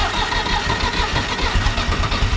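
Tractor engine starting at wide-open throttle: a loud, close, continuous mechanical chugging with a steady low pulsing rhythm, no voices.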